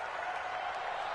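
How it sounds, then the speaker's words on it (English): Crowd roar from an American football video game on PS4, a steady broad wash of cheering building ahead of a big third-down play, continuous and even with no distinct voices. "The crowd getting into it as we come up on a big 3rd down."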